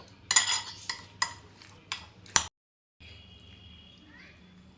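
Garam masala powder and whole peppercorns being mixed in oil, several clattering scrapes of a utensil against the pan, then a faint sizzle after a brief silence.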